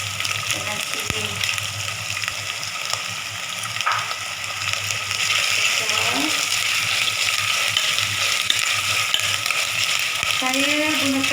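Curry leaves, shallots and chili fry in a pan of hot oil, a steady loud sizzle and bubbling with occasional stirring scrapes, and a voice talks briefly over it.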